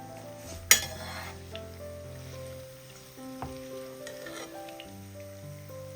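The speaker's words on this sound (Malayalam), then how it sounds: "മുട്ട ഒന്ന് നമുക്ക് നല്ലോണം ഒന്ന് ഫ്രൈ ചെയ്തെടുക്കാം." Eggs fry in hot oil with a soft, steady sizzle that sits beneath louder melodic music, and a sharp clink of a utensil against the pan stands out near the start.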